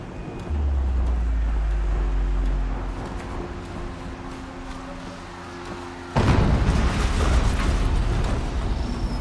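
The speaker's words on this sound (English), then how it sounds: "An explosion." Explosion in the video game Horizon Zero Dawn: a low rumbling roar builds after a few seconds, then a sudden loud blast bursts in, followed by sustained crackling, broadband debris noise.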